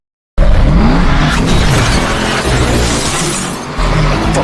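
Cars collide and tires squeal during a car fight in the film Baby Driver, a sudden loud crash opening into continuous grinding, screeching and smashing metal and glass that stays dense throughout.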